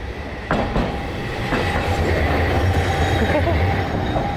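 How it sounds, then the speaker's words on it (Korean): A tram rolls past close by in Tenjinbashi, Osaka, a steady rumbling clatter of wheels on rails with a few sharp knocks, loud throughout. "뭐야 트램이 내 옆으로 지나갔어."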